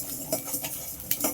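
A utensil scrapes and clinks against a pan while onions fry in oil for an egg curry, with a few distinct metallic taps over a faint, low sizzle.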